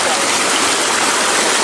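Hot spring waterfall pours steadily, a loud, close, broadband rush of falling water that fills the whole moment without pause.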